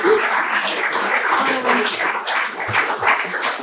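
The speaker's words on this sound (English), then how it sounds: "Please give them a round of applause" Applause from a gathered audience honoring bronze certification communities at a spring community event, a steady wash of many hands clapping throughout, fairly close and even in loudness.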